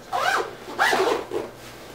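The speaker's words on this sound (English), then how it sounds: "I'm gonna go ahead and zip it up all the way." A softshell jacket zipper is pulled up in two quick strokes and then a shorter third, a close, raspy zip with no one speaking.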